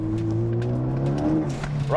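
A 2013 Ford Focus ST pulls hard in second gear as turbo boost builds, a steady close engine drone rising slightly in pitch throughout, with a voice talking over it.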